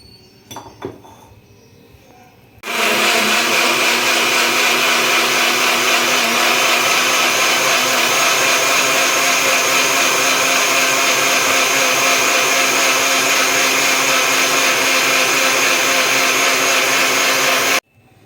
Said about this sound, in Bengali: আমার হয়ে গেছে মিক্সিতে মিশ্রণটা তৈরি হয়ে গেছে